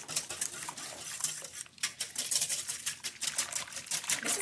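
A utensil scrapes and clinks against a bowl as seasoned salt and seasoned pepper are mixed in, with steady rhythmic clattering at close range.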